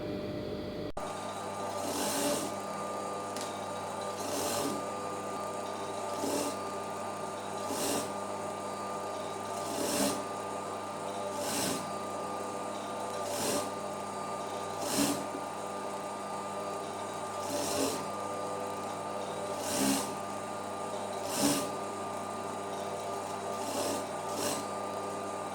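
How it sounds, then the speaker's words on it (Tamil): A sewing machine runs a long seam on a blouse lining, a steady close motor drone marked by regular soft pulses every couple of seconds. "இப்போ வந்துட்டு பக்கத்துலேயே அந்த இன்னொரு தையல் போடுறோம்"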